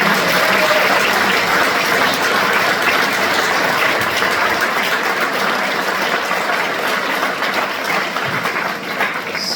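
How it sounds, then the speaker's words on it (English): Sustained audience applause fills a hall at a Young Farmers' Club arts festival celebration, steady and loud throughout before easing slightly near the end. "Can we give them another round of applause?"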